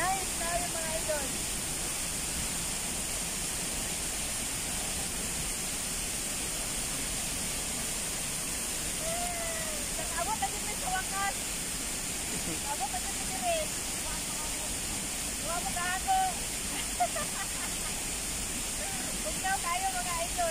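Maria Cristina Falls waterfall roars as a steady broadband rush of falling water throughout, moderately loud and constant, with voices talking intermittently over it.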